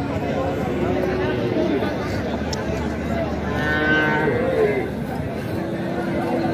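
A bull lowing at a cattle market where native-breed bulls are sold for Eid sacrifice, several drawn-out moos rising over steady crowd chatter and market hubbub.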